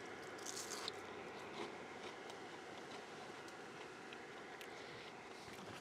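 Crispy onion rings are bitten and chewed close up, with quiet crunches and soft repeated chewing over a low background, and no talking.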